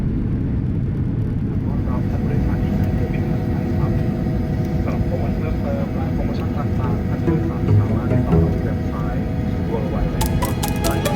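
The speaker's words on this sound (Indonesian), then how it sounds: "Pesawat perlahan bergerak menuju tempat parkirnya di Bandara Don Mueang." An airplane's engines hum steadily as it taxis slowly to its parking stand at Don Mueang Airport, Bangkok, with constant cabin noise and faint background murmuring.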